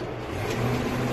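A brand-new Ford HighBoy truck engine idles steadily and smoothly, a continuous low rumble with no other voices present.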